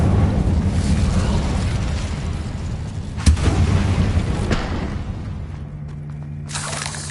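Incendio fire spell cast in Hogwarts Legacy, a dense roaring burst of flame with booming low rumble, a sharp crack near the middle, then a fading hiss and a fresh bright burst at the end.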